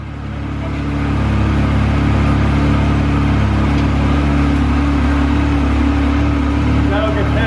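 A Honda TRX 450 ATV engine idles and runs steadily on a cold December day, a loud continuous low-pitched drone that builds up in the first second and holds, close to the microphone.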